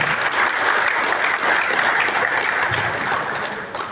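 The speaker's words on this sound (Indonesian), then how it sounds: "Tepuk tangan dulu" An indoor audience at a Partai Demokrat political education gathering claps steadily, a dense, even applause that holds at full strength for several seconds and then eases slightly near the end.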